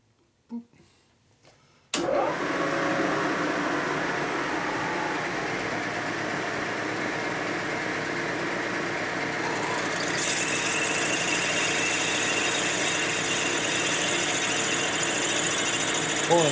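A larger drill bit bores into a stuck part on a junk Harley panhead race motor, starting abruptly after a brief quiet moment and then whirring steadily and loudly at close range without a break.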